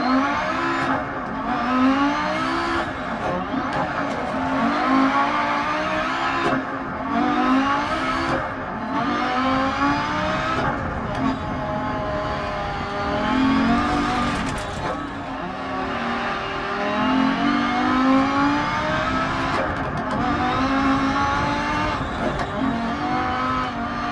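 A roughly 800 horsepower race car climbs Pikes Peak, its engine revving hard and rising and falling through repeated gear changes, loud and close throughout with brief bursts of tire noise.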